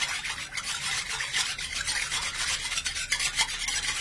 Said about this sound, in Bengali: একটা হুইস্ক দিয়ে সবকিছু ভালো করে মিশিয়ে নেব।